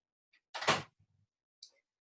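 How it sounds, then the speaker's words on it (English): An indoor door swings shut with a single sharp close near 0.5 s, followed by a faint rattle of the latch and a small knock, with quiet between. "I'm going to close the door."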